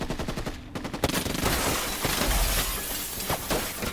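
Dense rapid gunfire in an action-film battle aboard a ship, with bursts and sharp crackling shots layered over a loud continuous roar throughout, plus glassy shattering hits.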